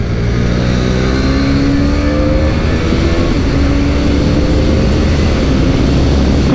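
A 2022 KTM RC 390 sport motorcycle accelerates hard down a track straight, its engine note droning loud and steady with rising pitch sweeps through the gears, close and continuous with no talk.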